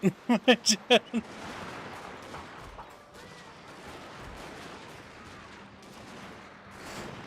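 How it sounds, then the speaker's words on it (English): Rifle volley fire in the strategy game Shogun 2, a quick run of five or six sharp cracks up front followed by a low rumbling battlefield wash of distant scattered shots and commotion. "fire your rifles"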